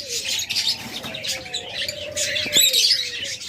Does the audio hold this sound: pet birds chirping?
yes